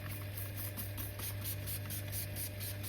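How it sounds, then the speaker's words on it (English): Alloy wheel cleaner spraying onto a car wheel, a steady hiss of continuous aerosol spray with faint pulsing, close and fairly quiet, with no voices. "Make sure to spray this everywhere,"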